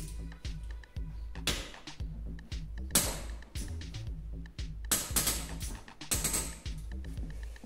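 A small ratchet wrench loosens the cylinder head bolts on a 190cc pit bike engine, giving repeated close clicking ratchet bursts and metallic creaks in uneven strokes, no talking.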